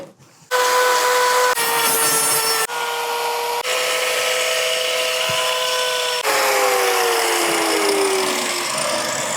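A power tool whines continuously while trimming a cow's hoof, loud and steady with shifts in pitch as it bites and eases, including a falling tone near the end.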